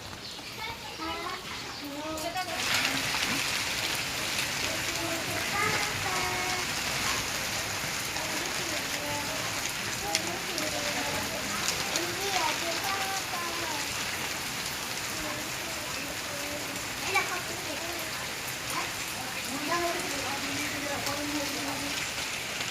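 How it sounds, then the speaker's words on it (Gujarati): Steady heavy rain patters and hisses throughout, with voices talking and occasional children's chatter underneath. "અને બતાવી દઉં વરસાદ ચાલુ છે"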